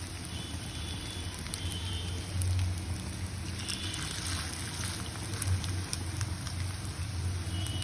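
Chicken coated for a mozzarella chicken fry sizzles steadily in a pan, a dense close crackle and hiss with small pops, continuous throughout.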